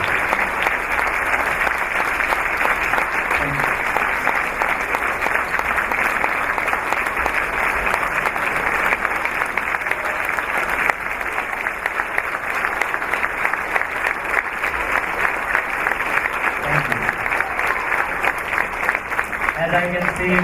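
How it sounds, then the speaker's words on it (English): Sustained, loud applause from a large audience after a presentation on the life of Swami Vivekananda, dense continuous clapping filling the hall for twenty seconds without pause. "as I can see from this huge applause, you all enjoyed it thoroughly"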